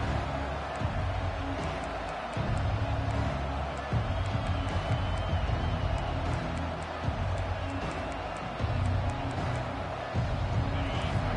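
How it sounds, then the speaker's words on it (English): Stadium crowd at a football game, a dense steady roar of cheering and chatter filling the whole stretch at a moderate distance, with no single voice standing out. "Listen to the crowd energy here in the early going."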